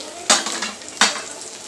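Crushed garlic and green chili hit hot oil in a pan with prawns, giving two loud bursts of sizzling with a spoon scraping and stirring between them, close and without talk.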